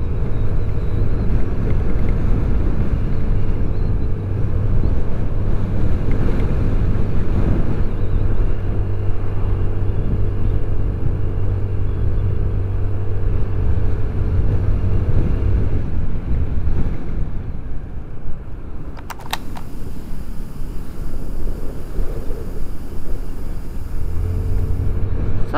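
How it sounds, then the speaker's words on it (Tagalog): Strong wind buffets the microphone during a motorcycle ride on an open road around Calatagan, Batangas, a constant low roaring rumble that eases and shifts near the end. "Wow, ang lakas ng hangin"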